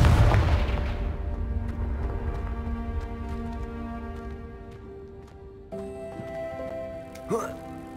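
A Confringo fire-blast spell bursts in Hogwarts Legacy, a loud booming explosion at the start that decays into a long ringing tail, followed by lighter magical chimes and a sharp accent near the end.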